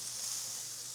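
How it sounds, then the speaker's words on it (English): Food sizzles steadily in a hot skillet while a chopped cheese sandwich is cooked, giving a continuous, fairly quiet hiss with no voices over it. "I'm gonna get a sizzle."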